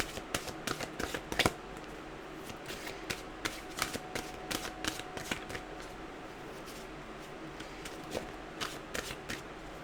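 Oracle mantra cards shuffled by hand, a close series of crisp riffling flicks and soft slaps repeating in an uneven rhythm for several seconds, with no talking.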